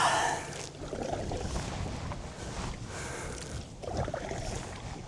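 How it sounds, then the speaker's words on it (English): Wind gusts and water noise while paddling a handmade wood-canvas canoe, a steady broadband rush with swelling surges, close and fairly loud, with a faint breathy sound near the start. "It wouldn't be one of my canoeing trips if there wasn't some wind."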